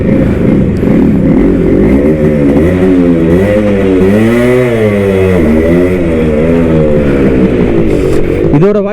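A first-batch Suzuki Shogun motorcycle engine idles loudly and close, rising and falling as the throttle is blipped in repeated revs, with someone talking over it.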